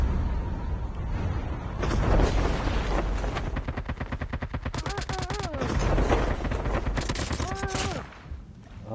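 Rapid automatic gunfire from Call of Duty: Mobile rattles in dense, continuous bursts, loud and close, with a couple of brief voice-like tones breaking through near the middle and end.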